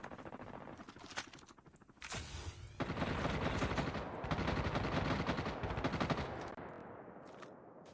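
Heavy gunfire in Call of Duty Mobile: dense, sustained bursts of automatic weapon fire crackle continuously, with a brief pause before a louder, fuller barrage that runs on and slowly thins out.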